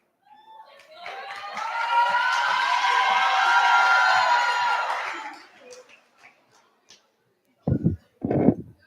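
Students cheer and clap loudly at an 8th grade graduation celebration, a sustained roar of whoops and applause that swells and then fades, followed by a couple of short bursts.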